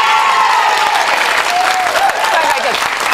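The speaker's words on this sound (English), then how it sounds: "Now you can clap." Loud, continuous clapping from a Big Brother UK 2004 studio audience on eviction night, mixed with crowd cheering and shouts.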